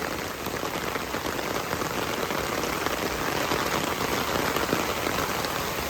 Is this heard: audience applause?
no